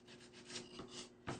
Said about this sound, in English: give it just a little bit of a sand.